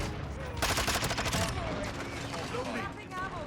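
Bursts of rapid automatic gunfire from a Vaznev 9K submachine gun in Modern Warfare 2 multiplayer, loud and close, with a dense volley in the first half then scattered shots under game noise.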